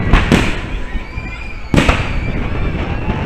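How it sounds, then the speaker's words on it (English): Fireworks booming at night during a Wave Carousel swing ride at Silver Dollar City in Branson, Missouri: two sharp loud bursts with crackling and rumbling tails over constant rushing wind and ride noise. "This is crazy with the fireworks going on."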